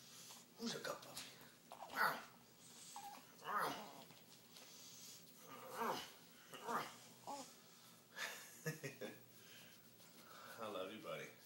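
A puppy whimpers in a series of short, high whines and snuffly breaths, fairly quiet, with soft murmured talking mixed in.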